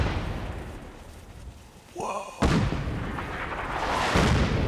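An artillery strike lands in Fallout 4, with a deep heavy boom partway through followed by a rumbling roar that builds toward the end, while voices talk over it.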